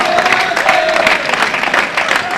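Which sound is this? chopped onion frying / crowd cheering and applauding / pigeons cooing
crowd cheering and applauding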